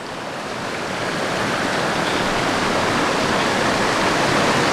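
A forest stream rushes over rocks in the Pisgah National Forest, a loud, dense, continuous watery roar that swells slightly and holds steady, with no voices.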